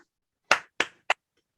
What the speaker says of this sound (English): Let's show an appreciation for your parents with a clap.